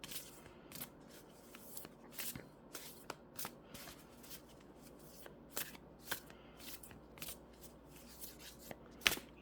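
Tarot cards shuffled by hand in a quiet room, a steady run of soft riffling and sharp card snaps with one crisp louder slap near the end, no voices.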